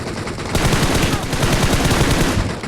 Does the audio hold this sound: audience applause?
no